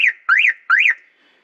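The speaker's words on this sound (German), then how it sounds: "jetzt hat es viermal gepiept, jetzt ist der Spannungssensor ausgeschaltet" An aftermarket Cadillock alarm fitted to a panel van sounds a loud, close electronic whooping tone that rises and falls, repeating in distinct cycles before cutting off, with no talk.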